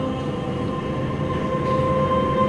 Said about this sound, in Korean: 빠르게 달려가는 열차는 정지 신호를 보지 못했어요